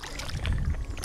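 A kayak paddle dips and pulls through lake water on the way toward a tunnel in the Jersey Pines, making a close, brief swirl and splash of water with low rumbling handling noise.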